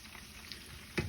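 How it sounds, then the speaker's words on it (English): Hot oil sizzles and crackles steadily at low volume as arancini deep fry, with a brief louder burst of spattering at the end. "So now we're gonna start deep frying them."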